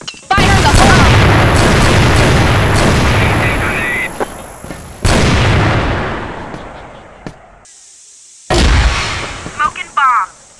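Loud bursts from a video game's bombs boom and roar, decaying slowly. Three long blasts are separated by short gaps, each followed by crackling debris.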